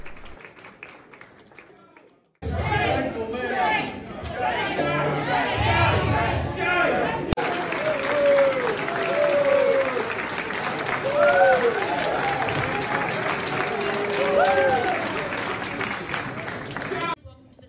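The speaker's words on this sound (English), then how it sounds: "it did seem to be a small amount of people doing this booing at the state conference" A crowd at a Liberal Party state conference reacts with loud booing, jeers and shouting mixed with clapping and chatter, a sustained noisy din after a quieter opening, with voices calling out over it.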